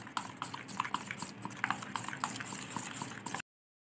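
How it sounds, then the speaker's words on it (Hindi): A raw potato paste thinned with water is whisked briskly by hand, giving wet, sloshing slaps and light utensil clicks against the bowl. The quick irregular strokes are close and fairly faint, then stop abruptly near the end. "इस तरह से फेंटेंगे 1 मिनट।"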